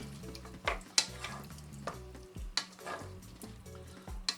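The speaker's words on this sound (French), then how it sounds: "il faut ne plus arrêter de mélanger" Melting cheese for Welsh rarebit is stirred steadily in a pan, giving repeated scraping strokes with a soft sizzle over a low background hum.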